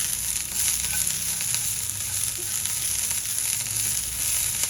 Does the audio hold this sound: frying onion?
yes